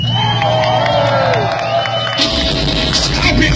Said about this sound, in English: once again, a round of applause for Ifas. Yay! Round of applause for SAS.